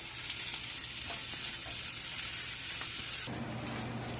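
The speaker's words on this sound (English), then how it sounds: "if I leave my heat on a little bit below medium and just continue to stir them like this, they just cook evenly" Sliced peppers and onions sizzle steadily in a frying pan over heat just below medium while being stirred, a constant close hiss with a slight shift in tone near the end.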